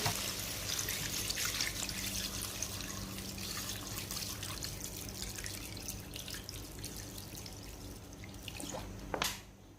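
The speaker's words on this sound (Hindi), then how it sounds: "अब इसके अंदर शामिल कर देते हैं पानी" Water pours steadily into a pot of fried spices for aloo gosht, a continuous splashing trickle close up, ending with a brief clatter.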